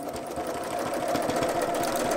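A sewing machine runs steadily at speed during free motion quilting on a small wall hanging, a close, continuous mechanical whir with a fast needle rhythm.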